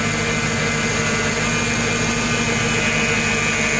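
A van engine idles steadily during an alternator test, a constant broadband hum and whir with no change in pace, close by and without voices.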